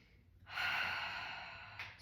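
Slow, steady yoga breathing during a core-focused practice: one long, close, airy breath swells after a quiet start and holds for over a second, then tapers, with a fresh breath starting at the end.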